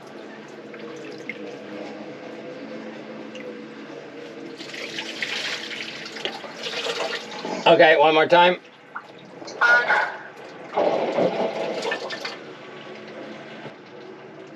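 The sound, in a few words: water from a hose flushing through a boat pipe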